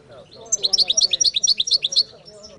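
A songbird at a song contest delivers its main note as a quick series of about fifteen bright, close chirps in a steady rhythm, with a faint low voice murmuring underneath.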